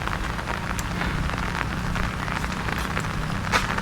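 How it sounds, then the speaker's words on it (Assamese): Steady rain falling and pattering on surfaces, a continuous broadband wash of drops with a few sharper splashes, constant and fairly close, with no voices. "আজি যদি দিনটো এনেকৈ বৰষুণ দি থাকে"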